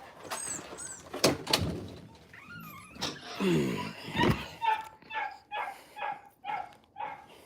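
A dog outside a home whines and yips in a series of high, rising cries, with a door-like thump and clatter partway through, ending in a run of short, evenly spaced whimpers.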